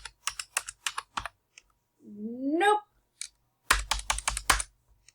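Quick bursts of typing on a computer keyboard clatter close by, pause while a voice says a short drawn-out word, then resume with another rapid run of keystrokes.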